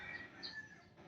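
Backyard chicken coop of gamecocks kept for fighting, with hens and roosters clucking and calling softly in a short, close burst over a low, busy background.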